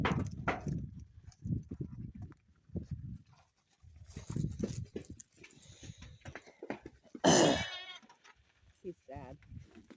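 A young lamb penned on a farm apart from the ewes bleats loudly and plaintively a few times, close by, while people talk over and between the cries.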